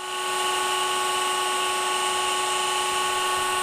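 A stone cutting saw runs steadily as the table rises, a strong high-pitched whine with a bright tonal ring holding at an even level throughout.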